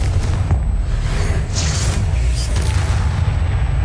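Confringo blasting spell from Hogwarts Legacy, a loud continuous rumbling boom with dense low-end roar and a few brief crackling bursts near the middle, no pauses throughout.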